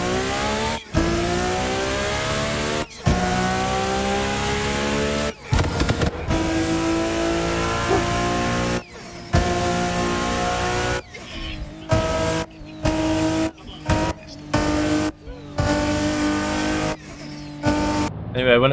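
Race car engine revving hard with tire squeal while drifting on a steering wheel in the Assetto Corsa video game, loud and continuous with throttle lifts and bursts of skidding, faint talk underneath.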